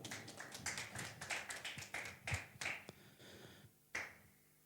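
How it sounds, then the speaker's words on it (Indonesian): A church congregation claps hands in scattered, uneven bursts that thin out toward the end, with a final lone clap after a brief pause. "Beri tepuk tangan buat Tuhan."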